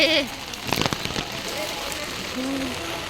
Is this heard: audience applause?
no